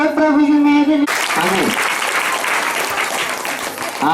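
A church congregation at a Hindi-language Christian ministry meeting breaks into loud sustained applause right after a brief voice, a dense continuous wash of clapping filling the rest of the clip.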